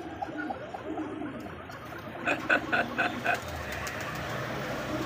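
A female Rajgolla racer pigeon coos nearby in a short rhythmic series of throaty calls, four or five pulses in a row over faint background noise.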